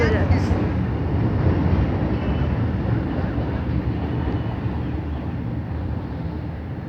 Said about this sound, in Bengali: মেট্রো যাচ্ছে